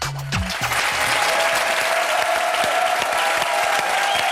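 An audience at a French televised debate breaks into sustained applause, a dense crackle of clapping that swells after a brief low voice at the start and continues steadily.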